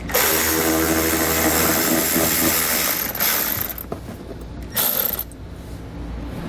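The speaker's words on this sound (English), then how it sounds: "we'll grab that 10mm socket and pull the bolt out, holding it in place" A 10mm socket on a ratchet backs out a cargo-area tie-down hook bolt in a 2019 Buick, a rapid, loud close clicking for about three seconds, then quieter scattered turns and a short final burst.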